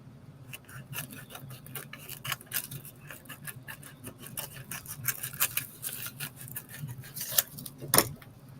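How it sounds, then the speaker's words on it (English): Scissors snip through a sheet of hotfix rhinestones to cut the piece in half, giving a long series of small crunchy clicks and rustles, close and fairly quiet, with a sharper snap near the end. "I'm gonna cut this piece in half."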